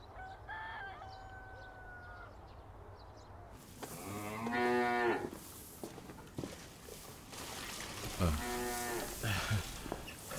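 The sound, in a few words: cows mooing in a cattle shed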